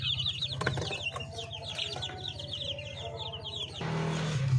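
Chickens being raised on a farm cluck and chirp steadily close by, with rapid high peeping over lower murmuring clucks and a brief flurry of wings.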